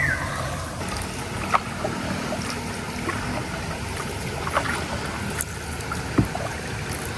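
Water sloshes and trickles around a small boat on a river, with occasional soft knocks and splashes against a steady background rush.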